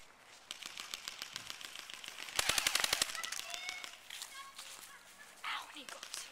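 Airsoft guns firing in an outdoor team deathmatch: scattered snapping shots, then a rapid burst of about ten close shots, with more distant pops, people talking, and birds faintly around.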